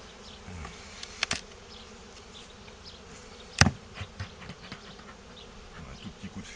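Honeybees buzz around an open Dadant hive during a frame transfer, a steady close drone with a few loud passes as individual bees fly right by, plus small knocks of handling.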